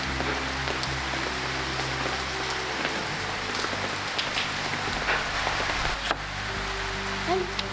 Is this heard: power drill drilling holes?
no